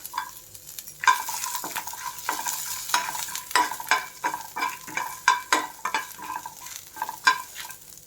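Garlic sizzling in hot oil in a pan while cooking a Kerala-style mushroom curry, a steady crackle broken by repeated sharp scraping strokes of a spoon stirring, close and fairly loud, with no voices.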